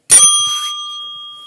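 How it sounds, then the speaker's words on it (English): A bell dinger is struck once, a sharp bright ding that rings out and slowly decays, close and alone. "I can move this right here so you guys can see my bell dinger down here."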